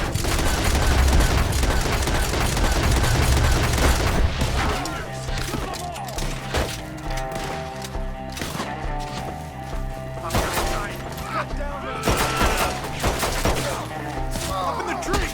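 Rapid gunfire and shooting in a Red Dead Redemption II battle against enemies up in the trees, with dense volleys of shots and crashes under excited shouting voices.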